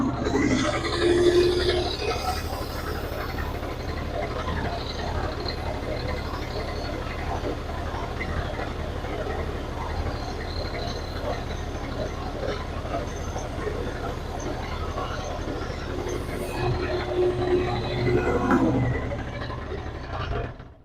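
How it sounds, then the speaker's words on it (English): A belt sander running with its belt cleaned by a rubber sanding-belt eraser, giving a steady motor whir with a rough, grinding rub laid over it that holds through the whole stretch and fades out at the end. "I'm just going to clean off my belt here with some belt sander eraser"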